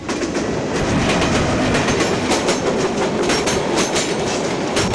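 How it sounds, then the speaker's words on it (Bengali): A train on a century-old single metre-gauge line in Bangladesh's Sylhet region rumbles loudly and steadily past nearby, with a rhythmic clickety-clack of wheels over rail joints throughout. "সিলেট অঞ্চলে সিঙ্গেল মিটার গেজ লাইনে প্রতিদিন যাতায়াত করছে সাতজোড়া ট্রেন"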